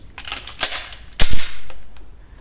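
A single loud 9x19 pistol shot from an HS Produkt HS-9 with a short barrel, a sharp crack followed by a brief echoing tail, preceded by faint rustling handling noise.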